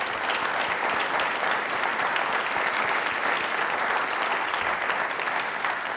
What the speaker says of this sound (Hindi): तालियां प्लीज एक बार जोरदार वाली हो जाए